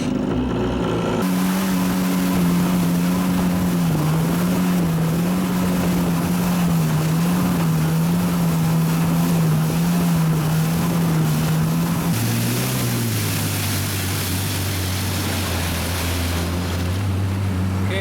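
A jet ski runs at speed with a loud, steady engine whine that drops in pitch near the end, water and wind rushing alongside.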